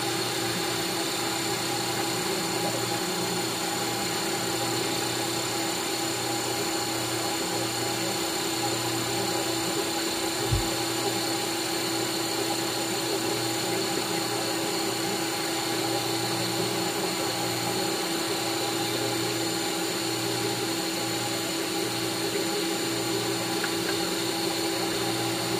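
A Ninja Creami machine processing jackfruit sorbet makes a steady, loud, droning mechanical whir that runs unbroken throughout, with one brief low thump partway through.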